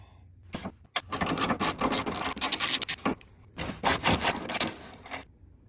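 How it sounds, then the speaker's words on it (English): A breaker bar loosens tight 15 mm bolts on a Porsche Boxster 986 engine during its removal, producing loud bursts of ratcheting clicks in short repeated runs, with no talk. "breaker bar again. All right, loosen and then remove."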